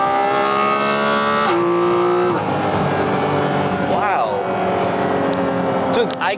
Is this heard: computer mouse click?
no